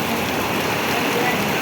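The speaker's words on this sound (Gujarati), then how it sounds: "અતિ ભારે પવન સાથે વરસાદ પડી રહ્યો છે." Heavy rain driven by strong gusting wind in a village downpour, a dense, loud, continuous roar of water hitting surfaces with no pauses.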